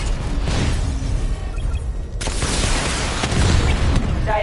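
Batmobile barrage fire in Batman Arkham Knight sets off a rapid series of heavy booming explosions with bursts and debris crackle, loud and dense throughout.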